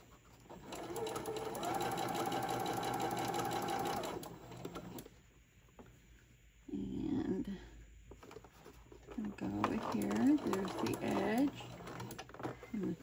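A sewing machine stitches a stuffed dog toy in one steady run of several seconds and then stops. Afterwards a person talks, and pigeons coo nearby.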